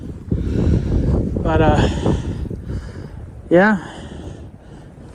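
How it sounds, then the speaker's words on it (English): Gusty wind buffets a microphone outdoors beside flooded low fields, a steady low rumble under a voice as he speaks throughout. "she's a windy one today"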